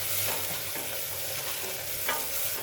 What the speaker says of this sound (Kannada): ಪುದೀನ ಎಲೆ 1 ಕಪ್ಪಷ್ಟಿದೆ, ಇದನ್ನು ಹಾಕ್ಕೊಂಡು ಒಂದು ಸ್ವಲ್ಪ ಫ್ರೈ ಮಾಡ್ಕೋಬೇಕು